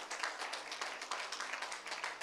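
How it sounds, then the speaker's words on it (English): Church congregation clapping together at the close of a morning service, a steady run of broadband claps with uneven accents, moderately quiet and without speech. "just give the Lord one more clap offering"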